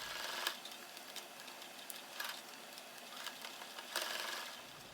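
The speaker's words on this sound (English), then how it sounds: "So I'll sew it together on the seam line" A sewing machine stitches the handles of a reusable shopping bag along the seam line, running at a steady, quiet, rhythmic whir with a few brief louder bursts.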